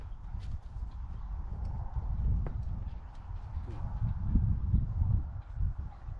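A ridden horse walks with a soft, steady clip-clop of hooves on the ground, close by and moderately loud, with faint rustling around it.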